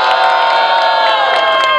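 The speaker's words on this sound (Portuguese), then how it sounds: "Oh! Barulho pra Pepe!" Loud, sustained cheering and shouting from a packed crowd at a rap battle, many overlapping voices whooping continuously without a break.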